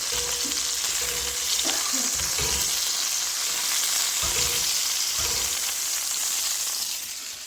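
Food frying in a pan on medium heat: a steady, loud bright sizzle throughout, punctuated by several low clunks and scrapes as the pan is moved and the food stirred.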